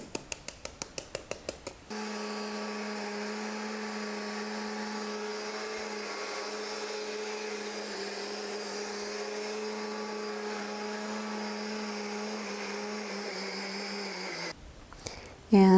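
Countertop blender whirring steadily while puréeing greens with banana, cinnamon, water and soy, preceded by a few rapid clicks and ending with a sharp stop and a clunk.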